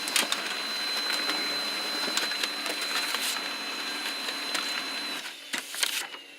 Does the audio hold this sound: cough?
no